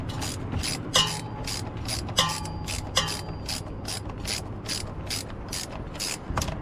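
A hand ratchet snugs up the bolts on a 2004 Hemi Ram 1500 power steering pump. A close, steady run of evenly spaced clicks plays over a low background hum, with a few sharper metallic knocks and no voices.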